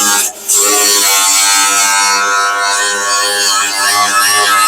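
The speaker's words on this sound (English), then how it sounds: "Got to put another grinding disc on the old grinder here." An angle grinder fitted with a grinding disc, used on a Nova restoration, runs nearby as a loud, steady, high-pitched whine that holds throughout.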